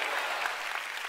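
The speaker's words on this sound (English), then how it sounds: "Give the Lord a big clap." A church congregation claps together at a sermon, a dense, steady wash of applause throughout this brief moment, with no voices standing out.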